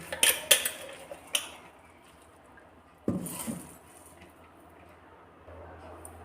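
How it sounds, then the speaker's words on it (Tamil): Ground lentil batter for crispy paruppu vadai is scooped into a bowl: a quick cluster of spoon-on-bowl clinks, then a scraping knock, with quiet handling noises between. "இப்போ வந்து இதை வந்து ஒரு பவுலில் வந்து மாற்றிக்கலாம்"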